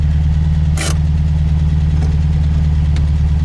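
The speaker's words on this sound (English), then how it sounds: "it's not making big clouds of black smoke while it's idling" A VW Beetle engine fitted with a Weber 34 ICT carburetor idles steadily and loudly, a continuous low throbbing drone with no talk over it, broken only by a brief hiss of noise.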